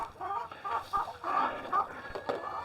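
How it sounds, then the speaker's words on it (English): Hens of several breeds cluck in short, repeated bursts on pasture, fairly close, with a soft farmyard murmur underneath and no talking. "We keep very nice variety of the hens"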